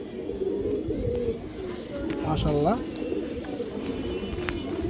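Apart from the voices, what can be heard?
pigeons cooing, black female pigeon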